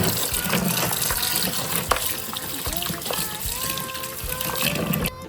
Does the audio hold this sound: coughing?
no